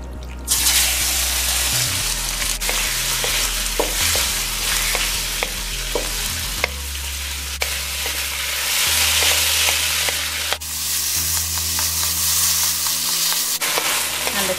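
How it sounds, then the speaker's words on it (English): Loud, steady sizzling and crackling of chicken frying in hot oil, with occasional clinks and scrapes of stirring. "I'm gonna fry the chicken."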